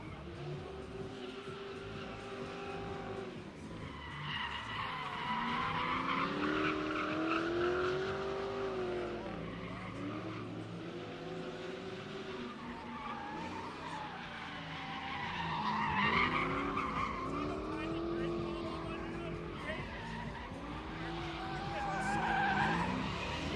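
Drift cars at a drift pit spin their tires, including a 5.3-liter swapped car and a Nissan 350Z, with long screeching tire squeals and revving engines rising and falling over crowd noise and talk.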